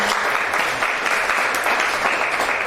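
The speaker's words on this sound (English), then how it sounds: "please give a round of applause to our amazing facilitator, Lee Pivnik" Steady applause from an audience at a talk at Green Space Miami, dense, continuous clapping that holds at an even level throughout with no voices rising above it.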